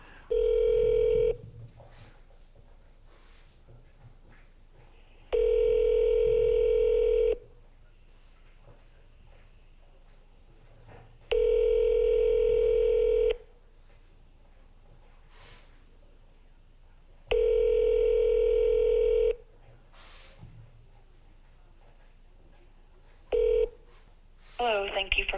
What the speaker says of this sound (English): We're at almost 7 minutes on hold with the records department.